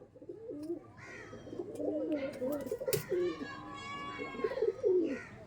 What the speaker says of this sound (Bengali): পায়রা দেখুন আপনারা শুধু পায়রা দেখুন